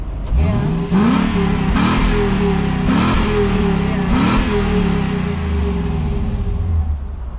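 Lexus LS400 V8 with two of its mufflers removed, revved four times in succession, each rise and fall of pitch loud and close, then settling to a rumbling idle.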